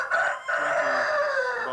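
About 700 laying hens and roosters in a Nigerian poultry house clucking and crowing together in a dense, continuous chorus, a rooster's call standing out above the flock in an enclosed space.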